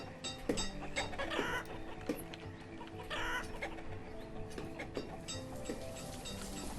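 Chickens cluck in their pens in the video game Banished, with repeated short clucks and bird calls scattered over a busy farmyard ambience, and no talk over them.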